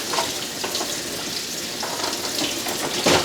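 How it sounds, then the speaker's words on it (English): Grapes rinsed under a running kitchen tap, giving a steady broadband hiss of flowing water with small splashes, continuous and close, with no talking. "So let me rinse these off."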